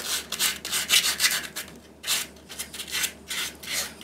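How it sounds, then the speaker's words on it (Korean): Sandpaper rubbed by hand over a furniture surface under repair, a close series of rhythmic raspy strokes, about seven passes with brief pauses between them, and no talking. "종이사포로 표면을 일단 조금 정리해 줄게요"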